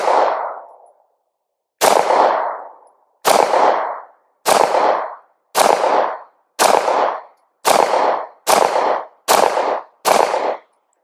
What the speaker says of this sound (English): Let's go ahead and load up again and shoot some more.